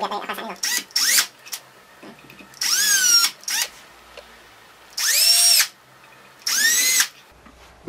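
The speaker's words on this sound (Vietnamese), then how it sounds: "chúng ta lấy khoan này, chúng ta khoan những vị trí mà chúng ta cần" A power drill drilling wood while repairing a drawer whines in four or five separate bursts, some short and some lasting about a second, with quiet pauses between them.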